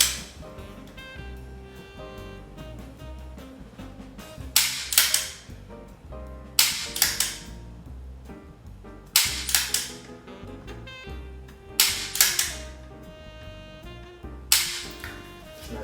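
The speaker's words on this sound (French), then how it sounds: "On tire la carabine fermement sans que ce soit trop excessif." A rifle fires several sharp, loud shots, roughly one every two to three seconds, with mechanical clicks and handling sounds in between as the bolt is worked. The shots are close, and no talking is heard.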